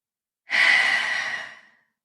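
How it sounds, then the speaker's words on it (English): A single slow, deep breath drawn in during a guided meditation, soft and airy, swelling over about a second and then tapering away in otherwise quiet surroundings. "Taking a nice deep breath in."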